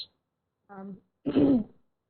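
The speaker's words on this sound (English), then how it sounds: "I keep coughing" Two short, rough throat bursts separated by silence, a brief cough followed by a louder, harsher one, close to the listener.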